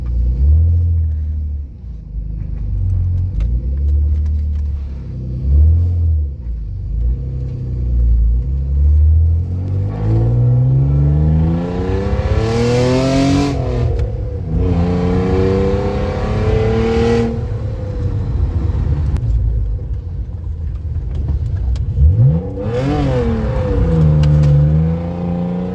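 A BMW E46 328 drift car with a welded differential revs and drives, its engine rising and falling in several loud surging pulls with a rumbling exhaust close by, a steady whine running beneath.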